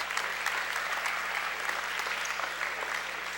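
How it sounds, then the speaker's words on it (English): A soft ripple of applause spreads through the crowd in Lee Lemon Arena during a men's basketball game as an injured player takes a seat on the bench, heard as a steady, distant wash of clapping with no talking. "Ripple of applause"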